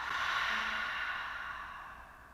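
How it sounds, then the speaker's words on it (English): A single slow breath pushed out through the mouth during a gentle morning yoga session, a soft airy rush that starts fairly strong and fades gradually over a couple of seconds, alone and close. "And then we'll exhale out through the mouth."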